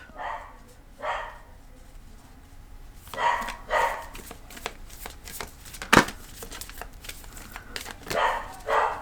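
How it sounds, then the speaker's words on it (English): A dog barks a few times in the background, single and paired muffled woofs spread across the stretch, with a nearby person talking quietly over them. "Sorry for my dog barking."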